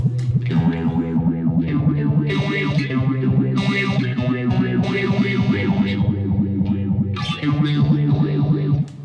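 Electric guitar run through an M-Vave Tank G effects pedal: a thick, distorted tone with swirling chorus-like modulation and echo, played as continuous chords and notes that stay loud and dense throughout.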